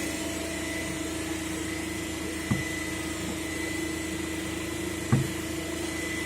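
Self-excited DC generator running steadily at its rated 220 volts, giving a constant machine hum with a continuous tonal whine, broken by two brief soft knocks partway through; no one speaks.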